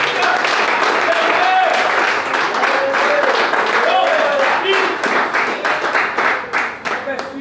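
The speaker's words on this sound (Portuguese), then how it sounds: "aplauda o nome de Jesus" A church congregation claps loudly and rhythmically in unison while voices call out and shout praise over the beat, with the clapping thinning toward the end.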